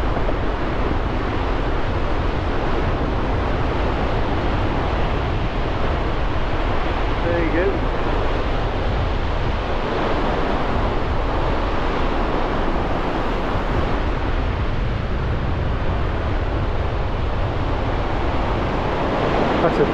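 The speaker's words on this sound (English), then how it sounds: "proper bass surf though out there" Heavy surf rolls and crashes continuously onto Woolacombe Beach in North Devon, a dense, steady roar of breaking waves mixed with wind buffeting the microphone.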